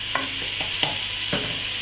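Diced peppers and onions fry in a pan with a steady, close high sizzle, broken by several short scraping stirs of a utensil; no one speaks.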